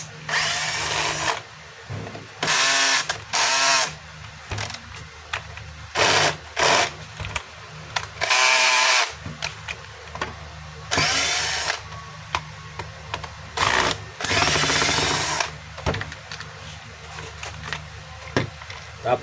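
A Stanley STDH7213 hammer drill runs in repeated bursts of a few seconds each, its loud whining motor starting and stopping with short gaps between, close and alone without talk.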